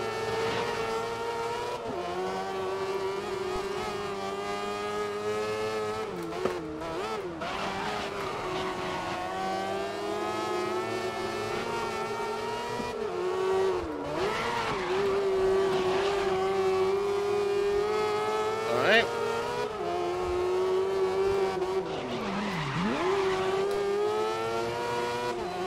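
Race car engines in the racing game GRID (2019) drone at high revs throughout, a steady loud tonal whine that swells and dips with gear shifts and brief pitch drops, with no speech.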